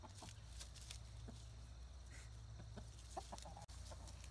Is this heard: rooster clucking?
yes